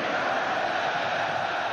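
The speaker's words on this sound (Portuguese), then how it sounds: "O torcida do Flamengo se agita" Flamengo supporters roar in the stadium during the 2004 Copa do Brasil final against Santo André: a dense, constant crowd din, loud and distant-sounding, with no break.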